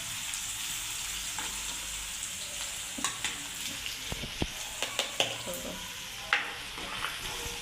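Onions frying over full gas in a pan for egg masala, a constant soft sizzle with a series of sharp crackles and pops from stirring, close and without talk.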